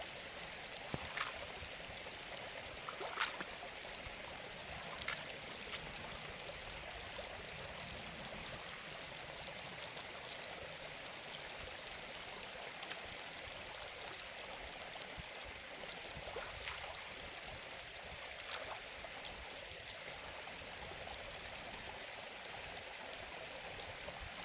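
A mountain stream runs through icy March water beside a pool about a metre deep, making a steady, close, broadband rush with small splashes and gurgles throughout and no voices.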